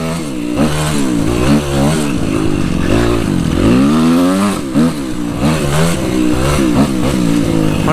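Suzuki RM-Z 250 four-stroke 250 cc motocross motorcycle engine revving hard and loud, with rising and falling pitch sweeps through repeated throttle blips, close to the microphone with no talk.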